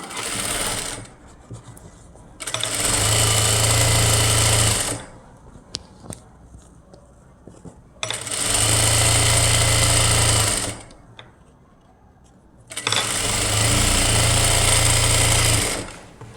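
A sewing machine stitches puff sleeve fabric in three long, loud, steady whirring bursts with a low motor drone. Short quieter pauses separate the bursts and carry faint handling clicks.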